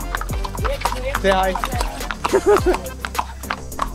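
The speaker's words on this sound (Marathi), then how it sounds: "अब घोड़े पे आ रहे" Horses carry riders along a hill-station trail in Matheran, and their hooves clop in an uneven close rhythm while people talk over them.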